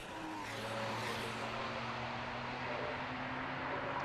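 Porsche Club Championship race cars lapping Donington Park, a steady loud engine drone with a sustained tone that shifts slightly as cars pass, continuous throughout with no gaps.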